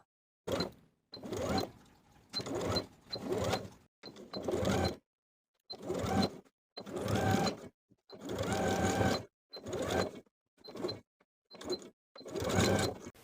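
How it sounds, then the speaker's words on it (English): A sewing machine stitches in the ditch along a dress seam in a series of short whirring runs separated by brief pauses, close and clear with no talking. "I'm going to stitch in the ditch from the outside."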